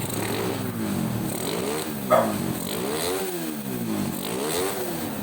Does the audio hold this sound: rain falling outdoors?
no